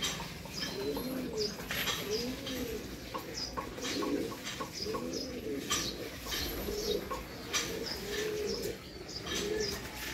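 A pigeon coos in repeated soft, rhythmic phrases nearby, with faint chirps and scattered ambient clicks in the background.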